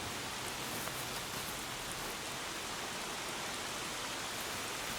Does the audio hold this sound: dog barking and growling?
no